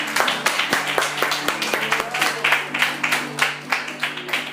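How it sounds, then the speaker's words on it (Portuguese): Church congregation applauding during a service, a lively rhythmic clapping with sharp repeated hits over a steady hum, fairly close and loud, with a few voices mixed in. "Você pode aplaudir o Senhor."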